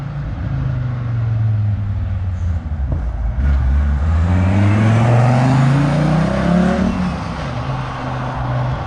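Toyota MR2 fitted with a turbocharged VR6 engine running on a rough base map, a loud close idle with deep rumble and a couple of rising revs, no talk.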